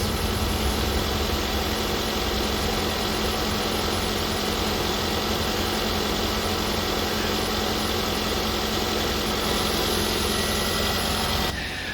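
A Hyundai Kona engine idles while warming up, a constant, even mechanical hum and vibration holding steady from start to finish with no voices.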